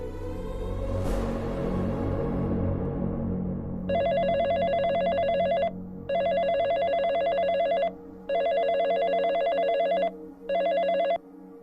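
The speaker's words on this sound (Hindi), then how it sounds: "किसका फोन है चाचा जी? गीत के ससुराल से फोन है" A telephone bell rings loud and close in four bursts with short gaps between them, preceded by a low rumbling musical swell in a Hindi television drama scene.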